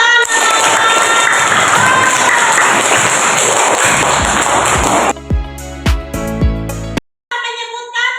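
A primary school class in an Islamic studies lesson claps hands together in a dense, loud burst of applause for about five seconds. It then breaks off into a few scattered sharp knocks and tones, with a brief silence near the end.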